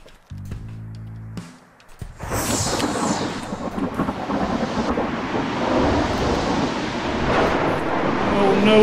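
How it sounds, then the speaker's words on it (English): A thunderstorm in the video game Gas Station Simulator rolls in after a short low electronic tone, with a loud thunder crack followed by a sustained, heavy rumble and wash of rain. "Another storm!"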